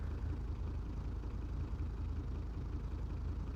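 A five-cylinder ETK I5 engine fitted with a race ECU in the BeamNG.drive game, held at a steady high-rev drone with a dense, continuous roar that stays loud and constant throughout.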